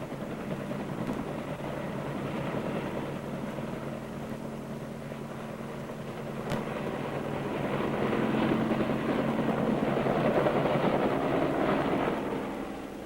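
Marine Corps helicopter in flight, a steady droning rotor and engine roar that swells louder toward the end, with no voices.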